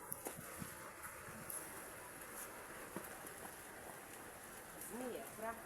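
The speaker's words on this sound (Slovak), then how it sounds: "Jaj, prší!" Rain falls outdoors, a faint, steady patter of drops with scattered light taps, and a voice speaks briefly near the end.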